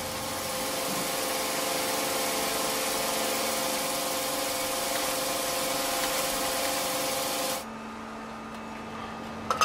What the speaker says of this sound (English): The billet goes into a machine which squeezes and squashes it even more and cuts it up into hundreds of very thin strips